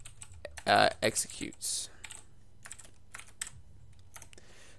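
Typing on a computer keyboard while writing C# code, a burst of loud close clatter early on followed by scattered lighter keystrokes, with someone talking quietly over it.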